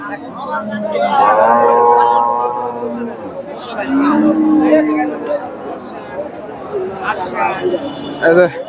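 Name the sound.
cows at a livestock market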